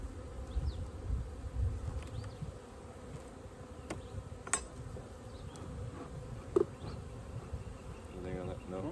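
Honey bees buzzing around hives on a homestead, a constant droning hum with individual bees passing close by, plus faint brief voices and small clunks in the background.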